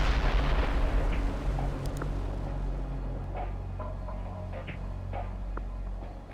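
Artillery barrage impacts in the World in Conflict strategy game, a dense rumbling roar of overlapping distant blasts rolling continuously for several seconds with scattered sharper pops and crackles.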